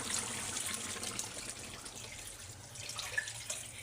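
Water poured into a fish and cauliflower curry, a quiet continuous splashing trickle with faint drips, heard alone and fairly soft.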